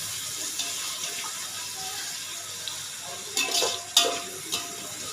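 Chopped big onions sizzle in a pot for a ghee rice dish, a quiet continuous frying hiss broken by a few louder scraping stirs toward the end.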